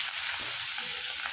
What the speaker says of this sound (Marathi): जिरे मोहरीची फोडणी बसत आहे